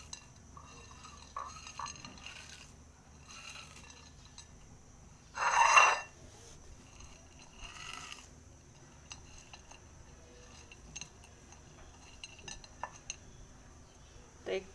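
Chopped onion and dried chili being mixed in oil in a pot or bowl, quiet scraping and stirring with one loud clattering clink midway, sparse metal taps around it.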